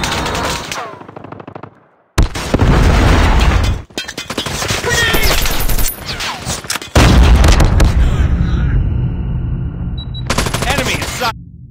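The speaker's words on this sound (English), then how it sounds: "Predator missile inbound." Loud gunfire and explosive booms from a Call of Duty Mobile team deathmatch on the Favela map, a Predator missile strike among heavy bursts of automatic fire, separated by brief silent gaps.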